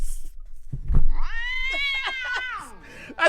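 Four kittens meowing at a live show, a drawn-out rising and falling mew up close with a couple of shorter cries around it and a soft thump before, no clear speech.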